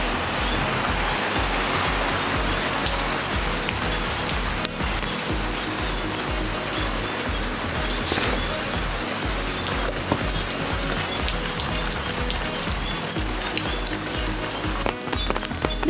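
Heavy rain pours steadily on a Thailand seaside stay, a dense, loud, continuous hiss of drops hitting surfaces with occasional sharper spatters, no voices over it.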